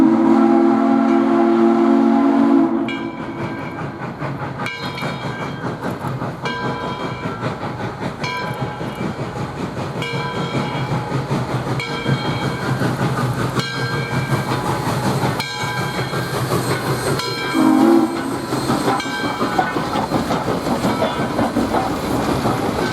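A Southern Railway No. 630 steam locomotive rumbles past with steady clatter, its new whistle sounding loudly at the start and again briefly later.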